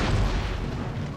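Artillery cannon fire in the video game Empire Total War, a deep booming blast at the start that rolls into a dense, sustained low rumble, loud and close throughout the short clip.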